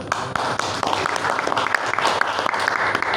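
An audience at a presentation skills session applauds, with a crisp, busy patter of many hands and individual claps standing out over a few seconds.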